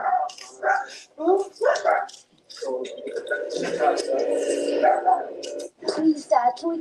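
Dogs bark and yip loudly in short bursts between people talking, with a sustained whining stretch in the middle, all in a TV commercial.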